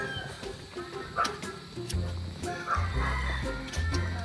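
Chickens on a farm that also keeps ostriches, clucking and calling in fairly close, busy bursts with scattered squawks over steady low background noise.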